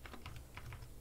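Keys tapped on a computer keyboard while a search query is typed, a quick run of about eight light clicks in an uneven rhythm, close and fairly quiet with no voices.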